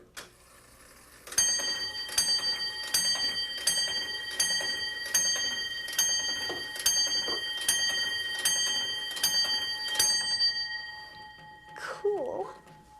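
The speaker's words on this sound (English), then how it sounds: "This is an original grandfather clock from the 1700s, and it doesn't tell time anymore" An original grandfather clock from the 1700s strikes a slow, steady series of about nine resonant chimes, each ringing on with long overtones, close and clear, with a faint shuffle and a brief noise near the end.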